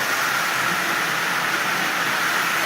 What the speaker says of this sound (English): As you see, this engine is just flying around this rail.